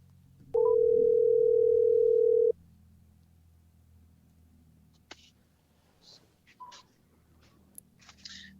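A single steady ring tone on an outgoing telephone call sounds for about two seconds near the start, then quiet line hiss with a few faint clicks and scratches follows.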